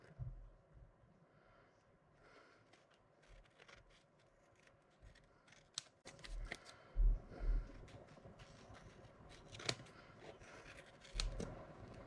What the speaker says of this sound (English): I'm going to cut these out again like I did before